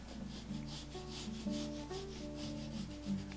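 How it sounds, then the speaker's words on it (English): A handsaw cuts down through wood in quick, repeated rasping strokes, faint and rhythmic over a quiet background, with a thin tonal hum running under the sawing. "With the handsaw, I can go straight down here."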